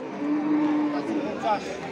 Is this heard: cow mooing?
yes